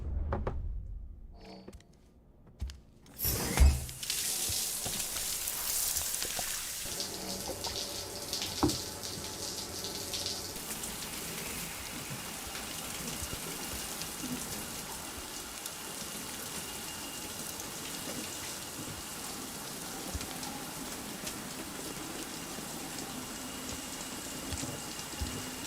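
Shower water runs for BB in a pod in Death Stranding, a steady hiss of spray that starts after a few soft knocks and holds at an even, moderate level.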